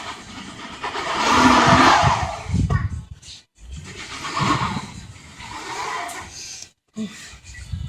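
A car stuck in snow revs its engine hard in surges, the roar rising and falling with a few brief gaps, while excited people talk and exclaim over it.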